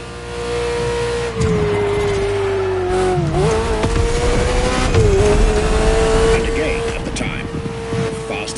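A high-pitched Ferrari sports car engine in a video game drones loudly and steadily, its pitch dipping and rising as it shifts, with roaring road noise underneath.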